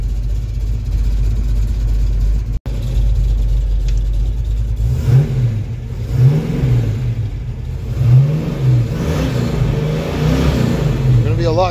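Ford Mustang engine with new tailpipes heard from inside the car, a steady low idle hum rising into several rhythmic revs, muffled but clear, with a voice talking over it.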